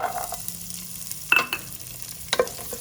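Country onions fry in oil inside a pressure cooker with a close, steady sizzle, punctuated by a few sharp stirring scrapes against the metal, no voices.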